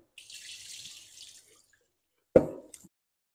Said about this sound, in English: we're gonna wash the rice with the cold water